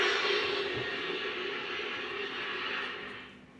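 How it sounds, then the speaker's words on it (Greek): An airplane drones overhead, a broad steady engine roar that slowly fades as it passes, with no talking. "Τι ακούμε? Αεροπλάνο"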